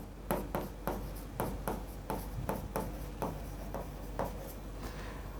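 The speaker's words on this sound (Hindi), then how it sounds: "यहीं पे लिख देता हूं" Handwriting with a pen or marker on a board during a general knowledge lesson, a series of short scratchy strokes in bursts, close and fairly quiet, with no talking.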